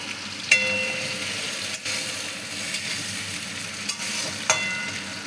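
Tomatoes and spices for fish biryani sizzle and fry in a pan close up: a constant hissing crackle, broken by a few sharp scrapes and clinks of stirring.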